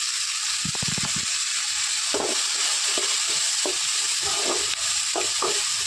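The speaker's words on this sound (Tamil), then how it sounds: "வெங்காயம் நல்லா வதங்கணும்." Onions for kara chutney sizzle steadily in a hot pan, a constant bright hiss broken by a series of scraping stirs of the spatula, close and alone without talk.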